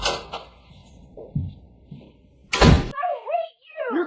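A door slams shut with one sharp, loud bang, preceded by softer footsteps and rustling, and followed by a voice speaking afterward.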